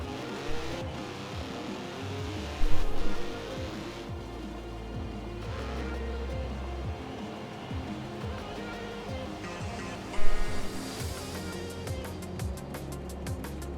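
A car engine drives steadily in the Forza Horizon 4 video game, a continuous loud drone with shifting revs and a couple of brief louder surges, no talk.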